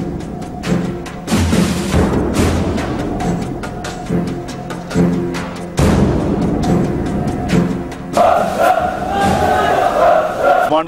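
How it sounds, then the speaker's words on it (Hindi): Commandos shouting loud slogans in unison during military training: a large group's repeated roaring chants that rise in bursts, with a crowd-like din between shouts. "कमांडोज के फलक शिगाफ नारे आपको सुनाई दे रहे हैं।"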